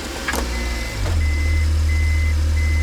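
A Daihatsu Hijet mini truck idling, then shifted into reverse, setting off a steady, thin electronic reversing tone over the low hum of the engine, heard up close.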